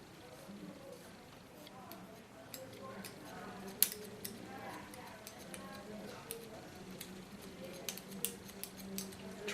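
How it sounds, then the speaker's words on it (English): Scissors slicing through platinum blonde hair during a pixie cut, giving a quiet run of light snips and clicks in an uneven rhythm over low room noise. "Do this with a cutting slice technique."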